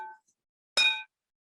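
Spinning graviflyer discs built at Falcon Space, turning near 4,000 RPM, give one loud ringing, bell-like tone with bright sustained overtones that lasts about a quarter second, following a brief faint sound at the start.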